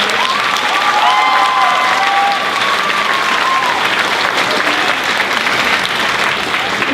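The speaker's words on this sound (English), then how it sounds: "give a round of applause to all the faculty and staff at Toledo" Loud, sustained applause from a large audience at an Ohio Teacher of the Year 2018 event in Toledo fills the whole stretch, with a few whistles and cheers rising above the clapping early on.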